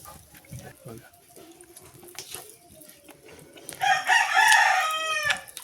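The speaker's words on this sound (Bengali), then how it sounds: "মোরগগুলো অসময় ডাকে" A rooster crows loudly and close by at midday, one long drawn-out crow near the end, after a stretch of talking and scattered yard noises.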